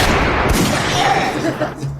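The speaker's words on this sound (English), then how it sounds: "Cheeks, please give him some gunshots" Gunshot sound effects played during a rap battle recap, a burst of loud bangs and echoing booms mixed with voices talking over them.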